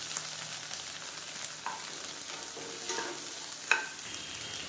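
Halved tomatoes and shallots saute in a pan with a steady, moderately loud sizzle and occasional soft scrapes of stirring, with no voices.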